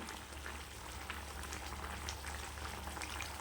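A cowpea and bottle gourd curry with a ground spice paste simmers in a pot, giving a faint, continuous bubbling with scattered soft pops and no voices.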